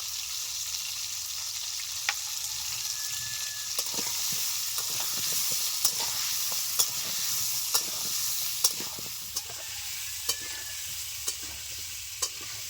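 Ingredients frying lightly with salt and turmeric in oil for a Bengali-style chicken curry with winter vegetables, a steady sizzle running throughout with regular sharp clicks of a spatula stirring against the pan.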